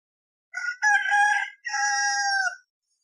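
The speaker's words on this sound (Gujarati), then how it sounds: "કૂકડો બોલે" A rooster crows loud and close in one clear cock-a-doodle-doo, split into two drawn-out parts by a short break, with silence before and after.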